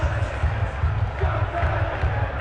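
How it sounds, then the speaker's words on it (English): A large crowd cheers and roars at a Tottenham Hotspur trophy parade celebrating a Europa League win in North London, a dense, continuous wall of noise with rhythmic swells throughout. "the biggest cheer for the head coach"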